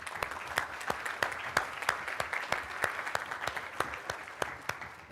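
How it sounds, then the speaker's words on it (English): A crowd at a hackathon opening ceremony claps steadily, with crisp individual claps standing out in a dense, fairly loud burst of applause that carries on throughout. "can we give a big round of applause?"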